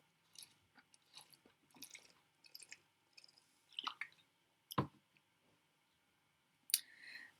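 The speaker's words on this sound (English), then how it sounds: "Wait a second, I need to drink some water." Someone drinks filtered water, producing a string of soft, close-up sips, swallows and wet clicks with small pauses between them, plus a couple of sharper knocks.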